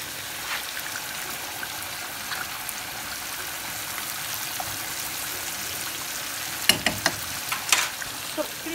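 Steak frying in a pan sizzles in a steady, close hiss, with scraping from stirring and a few sharp clinks of the utensil against the pan near the end.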